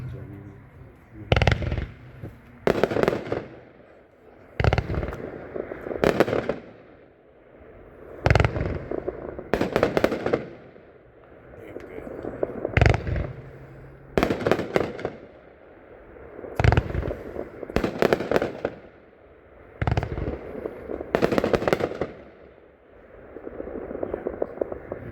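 Night Circus, a 30-shot firework cake, thumps out evenly spaced heavy bursts, often in pairs, each with a short crackling decay, while people murmur in the background.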